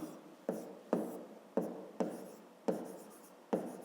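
Numbers are written by hand on paper with a pen or pencil, heard up close as seven distinct scratchy strokes in a steady, uneven rhythm, quiet and with no talk.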